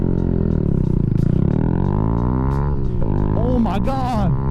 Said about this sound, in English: this is the Zoom Brute exhaust. It's a full system.